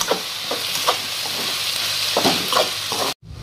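Chicken with tomatoes and spices for palak chicken sizzles steadily in a hot pan while a spoon stirs it, with soft scraping taps through a constant frying hiss that cuts off abruptly at the end.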